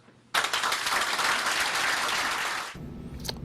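A roomful of teachers bursts into clapping all at once, a loud, dense wash of applause that holds for about two seconds and then cuts off abruptly into quiet.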